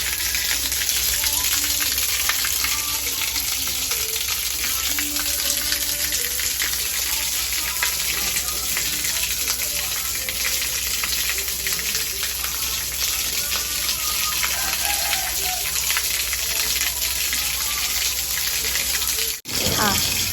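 Tap water pours steadily into a snakehead fry tank to refill it, a constant close rushing hiss that runs almost unbroken, dipping briefly near the end.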